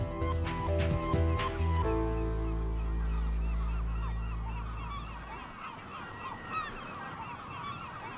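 A flock of migratory geese honks over the Île de Ré marshes, many overlapping calls at middle distance, first under a sustained musical tone that fades, then standing more alone.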